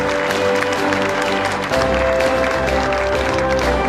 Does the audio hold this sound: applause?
yes